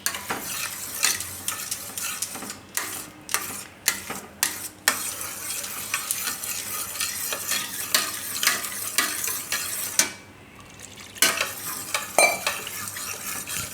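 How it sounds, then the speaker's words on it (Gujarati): Spoon stirring milk into a bottle gourd kofta mixture in a pan on the stove, with steady close scraping and swishing, a soft sizzle under it and a few brief pauses. "થોડું થોડું દૂધ નાખતું જવાનું મિક્સ કરતું જવાનું આ રીતે"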